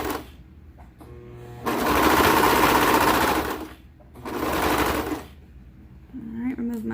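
A sewing machine stitches fabric for leggings in two rapid buzzing bursts of a few seconds each, close and clear, with quiet gaps and brief speech between.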